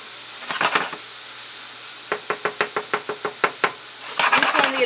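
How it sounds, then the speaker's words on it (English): Ground turkey cooks in olive oil in a pan with a steady sizzle, broken by a run of sharp, evenly spaced utensil knocks against the pan near the middle and a busier scraping stir at the end. "as your meat's cooking, it'll get brown"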